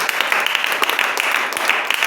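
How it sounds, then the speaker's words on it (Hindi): A church congregation gives a round of thanksgiving applause, dense and steady clapping from many hands that carries on throughout. "ये धन्यवाद की ताली दे सकते हैं।"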